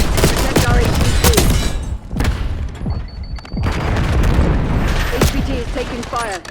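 Heavy gunfire and booming explosions rattle through a Black Ops 6 match, dense and loud with rapid bursts, while game voice lines cut in over the din.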